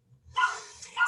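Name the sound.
puppies barking behind a closed door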